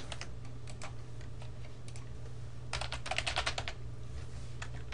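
Someone types a short command on a computer keyboard, with sparse clicks that turn into a quick burst of keystrokes midway. The typing is close and clear over a low steady hum, and no one speaks.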